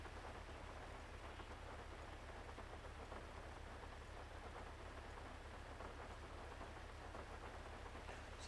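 Steady rain with distant thunder in a Grand Theft Auto V roleplay scene, a continuous wash of rainfall heard alone at low level with no talking.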